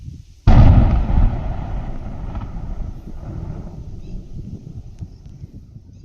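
Demolition explosions at the KK Park compound: one sudden heavy boom, then a long rolling rumble that slowly fades, distant but powerful, with wind noise behind it.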